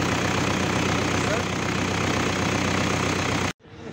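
An MTZ-82 tractor engine idles steadily and close by at a used-vehicle market, a dense, even rumble that holds for about three and a half seconds before cutting off abruptly into near silence.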